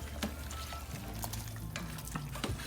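Filipino adobo being stirred in a pan, with a steady low sizzle and soft scraping, clinking stirs breaking through at intervals.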